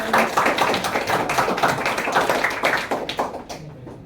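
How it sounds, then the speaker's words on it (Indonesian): Applause from a church community group, a crowd of hands clapping close and fairly loud in an uneven patter that thins out toward the end. "Silakan tepuk tangan."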